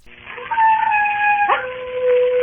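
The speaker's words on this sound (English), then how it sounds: "There are wild dogs on the moor. Sometimes they bay and howl." A dog howls and bays in long sustained wavering tones that shift pitch midway, close and loud, presented as wild dogs out on a moor.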